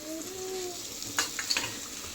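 Curry leaves and crushed garlic frying in a spoonful of oil, a steady soft sizzle with a few sharper crackles and spatters near the end.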